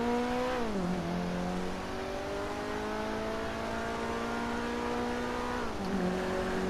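An Invetero Coquette D10 sports car drifting in GTA Online, its engine droning at steady high revs with two clear pitch drops as it shifts, a continuous loud whine with no talk.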